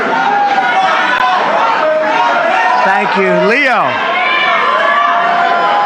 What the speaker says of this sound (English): This is some crowd.